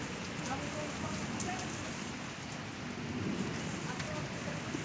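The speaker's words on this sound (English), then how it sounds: "Oh, Jesus, that is hail." Hail coming down outdoors, a dense continuous patter on surfaces close by, steady and fairly loud throughout with no break.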